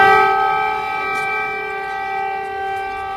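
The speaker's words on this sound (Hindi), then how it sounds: "देखिए इस तरीके से लगातार सायरन बज रहे हैं।" Loud, steady air raid sirens wail continuously in Kyiv, layered tones holding without a break and no voices.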